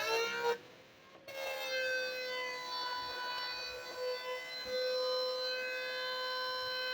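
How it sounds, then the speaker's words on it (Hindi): A small electric fan running on a home DC solar setup with a PWM controller gives a steady, whining, siren-like motor hum. Faint irregular ticks suggest a blade rattling as it catches, close and continuous with no talk. "पंखा टकरा रहा था तो आपको आवाज़ सुनाई दे रही थी"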